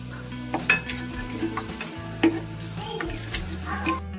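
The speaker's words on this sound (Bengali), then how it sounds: "এবার আমি এখানে দিয়ে দিচ্ছি গোটা ধনে, তিল আর পোস্ত। এটাকেও আমি ড্রাই রোস্ট করে দেব একসাথে।" Whole coriander seeds, sesame and poppy seeds dry roasting in a pan, a close crackling rustle broken by sharp metallic scrapes and taps from a spoon stirring against the pan.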